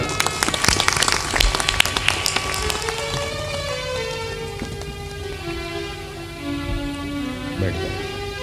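An audience claps loudly at a Hindi spiritual talk gathering. A dense patter of applause rises at the start, then thins and fades as sustained tones take over.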